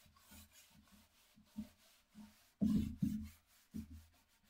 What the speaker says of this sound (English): buffing my clear coat.